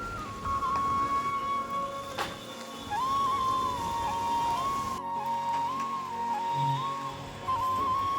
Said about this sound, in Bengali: তো বৃষ্টি পড়া শুরু হয়ে গেছে দেখো।